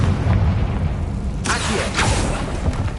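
A Confringo spell blast in Hogwarts Legacy on PS5, a loud booming burst at about the midpoint that rolls into a second crackling hit, set against steady low game ambience with no talking.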